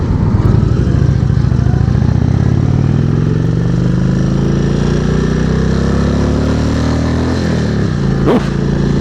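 An Indian Chieftain motorcycle engine roars loud and close throughout while riding, with a steady heavy rumble whose pitch slowly climbs and then settles, and brief clatter near the end.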